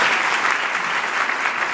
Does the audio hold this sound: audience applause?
yes